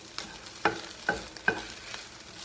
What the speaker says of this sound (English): You keep mixing, you know, just kind of moving your eggs around till they are fully cooked